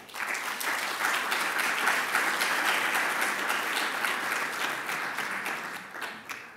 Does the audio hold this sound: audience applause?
yes